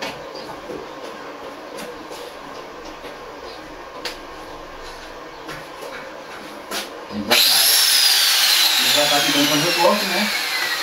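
A piece of a broken grinding disc cutting scrap metal, starting abruptly partway through as a loud, harsh, sustained high-pitched whine with a sweeping tone, after a stretch of quieter background noise.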